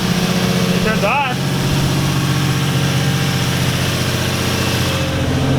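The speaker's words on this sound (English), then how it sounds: "How's the idle for startup?" An Infiniti G35 with a Kinetix Velocity intake manifold idles steadily just after startup. The engine drones loud and close under a continuous low hum, and a voice talks over it.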